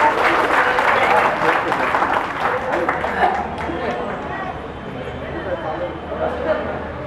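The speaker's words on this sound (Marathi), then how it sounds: "टाळ्या वाजवा." An audience applauds poet Baban Sarwade at a Marathi poetry gathering; dense, sustained clapping fills the whole stretch, strong at first and easing slightly, with voices mixed in underneath.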